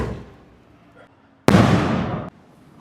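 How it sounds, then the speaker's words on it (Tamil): A Deepavali firecracker bursts with a single loud, close blast that crackles on for nearly a second, then cuts off abruptly, with faint voices and rustling before it. "சிக்னேச்சர் எப்படி வெடிக்குதுன்னு பார்க்கலாம்."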